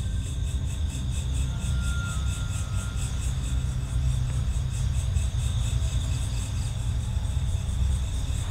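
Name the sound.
crickets chirping at night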